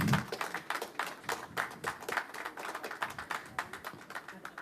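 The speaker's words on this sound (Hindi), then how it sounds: "जोरदार तालियां फॉर शबाना आजमी जी" Audience applause for Shabana Azmi at an Urdu poetry album release event, a steady crowd clapping with dense rapid hand claps throughout, moderately loud and continuous.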